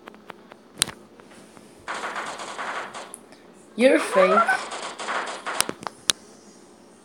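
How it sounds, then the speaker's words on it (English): Gunfire in a Prop Hunt video game match, a few sharp shots popping among game sounds, with a player talking over the action. "Just heard gunshots."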